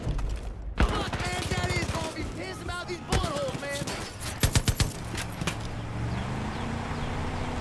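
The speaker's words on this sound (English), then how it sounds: "I'm on the mounted gun" Mounted gun firing in the video game Far Cry 5, a quick burst of rapid shots in the middle of the clip, heard amid game noise and a talking voice.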